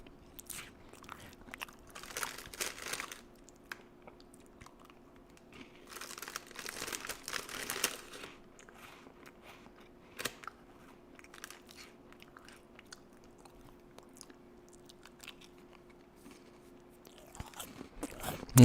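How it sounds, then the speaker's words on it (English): Someone chews crunchy food close to the microphone, with bursts of crunching and crinkling that come and go over a quiet room hum. "if you guys love the sound of my chewing"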